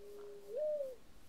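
A single owl hoot from the Minecraft Mo Creatures mod: a soft, even tone that swells and bends upward into a brief, clearer peak before fading, alone over quiet game ambience.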